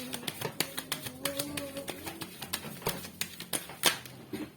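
Tarot cards are laid out and flipped on a table, a quick run of sharp, close, light taps and snaps that land in an uneven rhythm, quiet and without speech.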